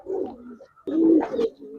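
Giribaz pigeons coo up close in two low, throaty bursts, the second fuller and louder after a short pause, with no voices.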